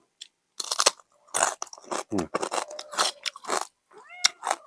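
Crisp fried yellow tilapia eaten with spicy papaya salad and rice noodles, loud close crunching bites followed by a run of chewing crackles, sharp and intermittent with short pauses.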